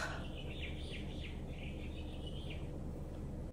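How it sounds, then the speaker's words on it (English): Early-morning birdsong outdoors: a few faint, repeated chirping phrases over a low background hum. "there's a lot of birds out, so I'm sorry if you can hear them"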